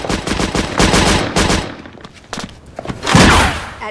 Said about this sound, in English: Wide stance, arms held forward, firing in short bursts.